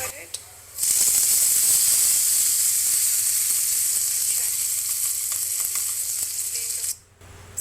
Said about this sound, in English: So just fry till your curry leaves are crispy, and then transfer into your prepared chutney.